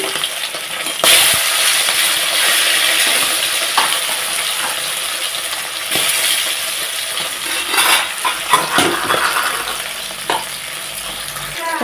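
Bata fish, rubbed with turmeric and salt, sizzles steadily in hot oil in a pan, a continuous close frying hiss broken by occasional clinks and scraping of a utensil, with no talking.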